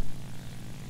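Propeller engine drone of a J2M3 Raiden fighter in War Thunder, a brief low steady roar heard alone.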